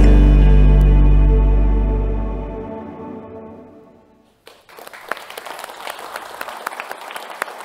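Sustained music fades away, then a crowd breaks into steady, lively applause that continues to the end.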